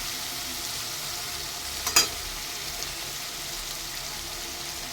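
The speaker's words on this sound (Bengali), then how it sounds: "এর মধ্যে আমি দেবো রসুন বাটা, রসুন, আদা আর কাঁচা লঙ্কা" Garlic paste, ginger and green chillies frying in oil with browned onions for pulao, a steady soft sizzle throughout with a brief louder stir around the middle, close and alone.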